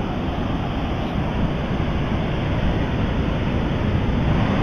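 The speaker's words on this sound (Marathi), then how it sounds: "पूर्ण समुद्राचा आवाज येतोय." Rough sea swollen by rain crashes near the Ganpatipule temple shore, a dense, steady, loud roar of surf and wind with no pauses across the whole stretch.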